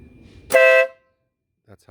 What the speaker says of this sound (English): I installed a Denali sound bomb, which is the loudest horn that you can get